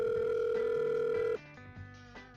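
A steady telephone dial tone hums loudly while a call is placed to a car insurer, then stops abruptly, leaving softer tonal sounds behind.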